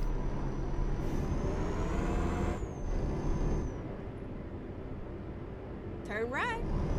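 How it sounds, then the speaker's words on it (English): A Euro Truck Simulator 2 truck engine drones steadily with a sharp air-brake hiss partway through, and a voice speaks over it near the end. "Truck's just loud."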